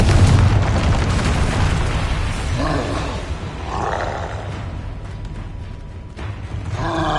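A Confringo spell blast in Hogwarts Legacy erupts as a loud, deep roaring boom, followed by rumbling and a few vocal grunts, then another surge of noise.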